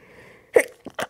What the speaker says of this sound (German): Muss gleich niesen.